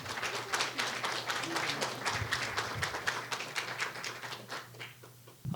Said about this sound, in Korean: 안영환 교수님을 뜨거운 박수로 환영해 주시기 바랍니다.